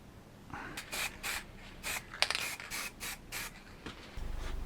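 Aerosol can of sanding sealer sprays in a series of short hissing bursts, each about a second or less, close by and fairly quiet, with brief pauses between them and no talking.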